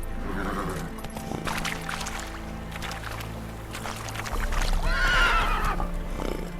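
Roach, the horse in The Witcher 3 video game, gallops with rapid rhythmic hoofbeats and then lets out a loud, shrill neigh near the end.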